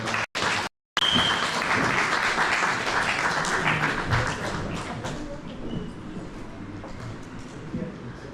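Audience at an Australian chapter launch event applauding steadily as a woman is welcomed to the stage, a dense, sustained clapping that runs on after a brief cut near the start.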